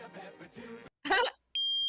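A loud electronic beeper gives a sharp tone near the end, following a brief stretch of talk and a short vocal outburst.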